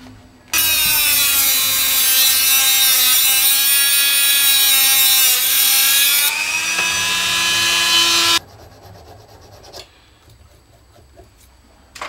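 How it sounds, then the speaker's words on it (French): A Dremel rotary tool with an abrasive disc grinds metal on an 18mm rimfire percussion rifle part, giving a loud, close, steady high-pitched whine for about eight seconds whose pitch shifts under load before it cuts off into quieter handling noise. "de bons vieux Dremel bien sûr"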